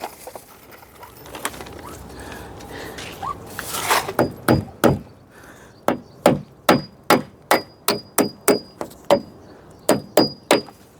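Hammer blows drive nails into wood in a rural yard, a dozen or so sharp, loud, close strikes in an uneven series, some with a faint ringing after, following quieter handling sounds.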